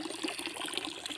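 Fresh water runs steadily with an even, close hiss and splash, alone with no talking.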